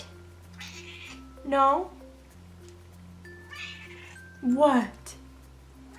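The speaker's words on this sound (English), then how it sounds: "There's a cat in here." A pet cat indoors gives two drawn-out, rising-and-falling meows a few seconds apart. A person speaks briefly, and a low steady hum runs underneath.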